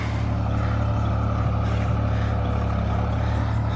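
A continuous low engine drone runs unchanging for a few seconds, loud and close, like a tractor idling steadily on a farm field being prepared for paddy planting.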